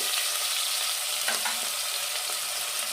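Chopped onions sizzle and fry in hot oil in a pan for an Odia-style mutton curry, a dense, steady crackling hiss throughout with occasional stirring scrapes and no voices.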